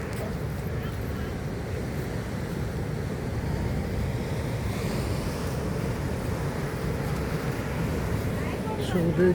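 Turbulent sea waves surge into a coastal creek at Kapu, a steady broad roar of surf with wind buffeting the microphone throughout, loud and continuous.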